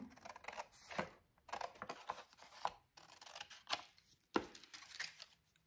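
Scissors cut paper for an Easter magazine-style notebook, making a series of crisp, close snips in an irregular rhythm of about a dozen cuts, quiet and alone.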